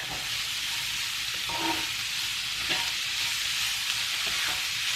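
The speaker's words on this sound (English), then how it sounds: "We're going to give this a stir." Picadillo with ripe garden serrano chiles sizzles steadily in an oiled pan while being stirred, with a few soft scrapes of the spoon across the pan and no talking.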